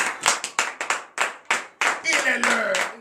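A church congregation claps during morning prayer in Benin, a series of sharp separate claps that builds into denser, overlapping clapping, with voices rising beneath toward the end.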